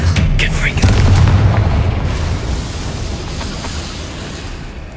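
The Confringo spell fires in the video game Hogwarts Legacy, a loud deep boom with a rumbling blast that swells early and slowly decays over several seconds, with a few sharp magical crackles at the start.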